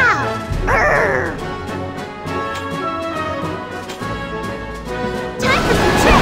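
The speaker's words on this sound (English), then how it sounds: "Hear me growl!" A character in the game FFBE War of the Visions growls and barks amid loud battle effects, with crashes and shouts layered over a busy game soundtrack.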